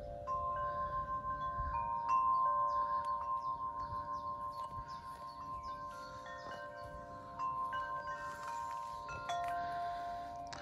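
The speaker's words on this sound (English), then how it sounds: "the noise you can hear is actually this Woodstock chimes, wind chime" A Woodstock Bells of Paradise wind chime in a UK garden rings softly, with clear sustained metallic tones sounding one after another and overlapping as they fade, over faint background noise.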